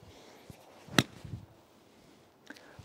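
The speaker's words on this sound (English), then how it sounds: "That was a lovely sort of ball and mat sound together." A golf club strikes the ball and the practice mat together in one sharp, crisp impact, followed by quiet background and a few faint soft knocks.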